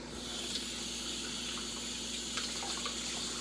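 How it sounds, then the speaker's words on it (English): Tap water runs in a steady, soft hiss as a pan is filled at the sink, faint and continuous with no voices. "fill the pan with water"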